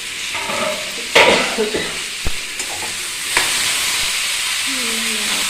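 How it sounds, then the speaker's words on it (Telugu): Chopped tomatoes fry in a pan for chutney under a constant close sizzle, broken by sharp spoon clinks and scraping as they are stirred. "ముందుగా శుభ్రంగా కడిగి కట్ చేసి పెట్టుకున్న టమాటాలను వేసుకొని బాగా ఫ్రై చేసుకోవాలి"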